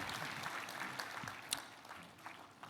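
Applause from an audience at the launch of the Equity Group 2024 sustainability report, faint and scattered clapping that continues steadily throughout with a few sharper claps standing out.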